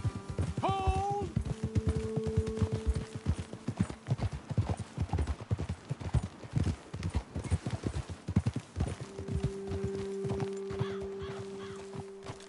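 Horses in the video game Red Dead Redemption 2 walk with close, continuous clip-clopping hooves, with a brief whinny near the start.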